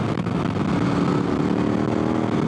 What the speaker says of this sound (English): we're laying full throttle down to this thing